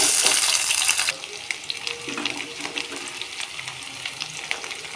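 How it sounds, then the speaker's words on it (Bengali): Bay leaf, dry red chilli, panch phoron and chopped onion dropped into hot mustard oil, opening with a loud bright sizzling burst that settles into a steadier crackle with light stirring clicks. "তেলটা গরম হয়ে আসলে একটা তেজপাতা একটা শুকনো লঙ্কা সামান্য পাঁচ ফোড়ন কেটে রাখা পেঁয়াজ"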